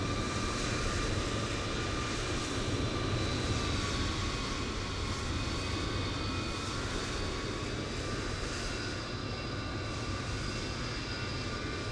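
An airliner engine spools up in Microsoft Flight Simulator, a constant loud drone with steady whining tones that holds evenly throughout, no voices.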